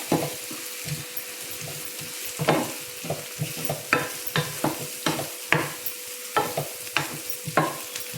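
Ingredients with turmeric powder sautéing in a pan for paruppu usili: a soft continuous sizzle broken by repeated scraping stirs of a spoon against the pan, close and without talk.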